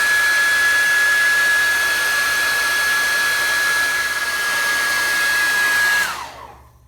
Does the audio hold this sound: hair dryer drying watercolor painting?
yes